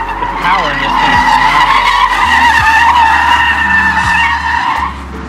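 A 2023 Mercedes-AMG EQS driven hard on a track, a loud continuous electric drive whine with tire skidding and scrubbing throughout, close and sustained with no voices.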